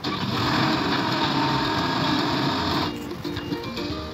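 An excavator engine in a truck-building video game, a loud steady whining motor drone that drops to a lower, rougher idle in the final second.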